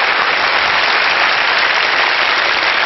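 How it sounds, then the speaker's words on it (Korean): A large lecture-hall audience bursts into loud, dense applause, a continuous wash of many hands clapping that holds steady throughout without any voices. "박수 한번 더 주시면 안 되겠습니까?"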